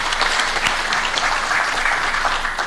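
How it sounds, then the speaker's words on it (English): Delegates at a general conference of African prosecutors give a hearty round of applause, a loud and dense spread of clapping that carries steadily from start to finish. "A round of applause again for them."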